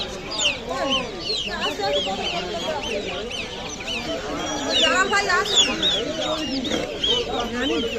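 Chickens, ducks and ducklings cluck and squawk continuously in a busy poultry market, with people talking in the background throughout.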